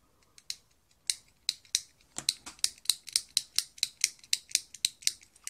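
The Flip switch on a fidget cube snaps back and forth in a quick run of sharp plastic clicks, close and crisp, sparse at first and then settling into a steady, rapid rhythm with no talking.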